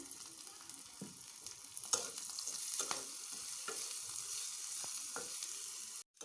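Dried shrimp sizzle and crackle in a hot pan as they are dry-roasted with a little turmeric, a steady close frying hiss with scattered pops and stirring scrapes, no voices.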